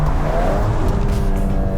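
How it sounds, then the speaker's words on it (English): Volkswagen Golf R 8.5 with a seven-speed dual-clutch gearbox, its exhaust droning loud and steady from inside the cabin as the car accelerates, with a rising engine tone throughout. "the exhaust does sound amazing"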